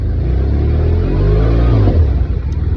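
BMW R1200R LC motorcycle engine, its owner checking for an alternator fault, revs up from idle with a rising throaty rumble, close and loud, then eases back with a slight wobble.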